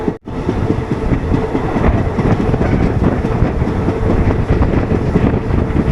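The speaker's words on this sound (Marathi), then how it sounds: "ट्रेनने तर आपल्या स्पीड पकडलेली आहे" A train rumbles steadily along the rails with a constant loud roar and rhythmic clatter throughout, close by.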